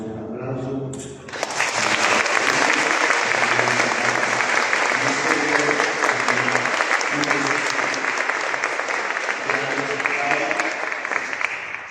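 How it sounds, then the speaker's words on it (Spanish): A congregation in a parish church breaks into applause after a brief stretch of voices, and the full, sustained clapping of many hands then fills the space at an even, lively level. "Le damos un aplauso."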